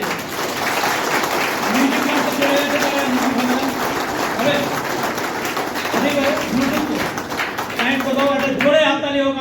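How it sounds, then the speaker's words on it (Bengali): Steady, dense audience applause at a Mi Lifestyle business meeting, filling the whole stretch at an even level while someone talks over it. "তো নিজেদের জন্য একটা জবাবদাস্ত হাততালি"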